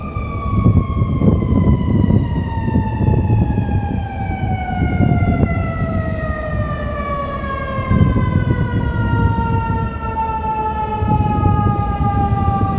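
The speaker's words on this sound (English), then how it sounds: "You hear the sirens, right?" Emergency sirens in Chicago's Streeterville wail loudly, their tones sliding slowly downward in a long continuous sweep over the rumble of traffic.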